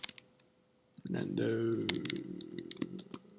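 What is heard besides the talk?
typing on a computer keyboard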